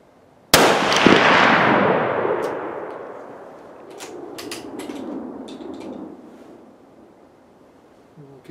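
A .303 rifle fires a reloaded 45-grain test load, one loud close blast at the start that booms and rolls away over several seconds, followed by faint clinks and rustles.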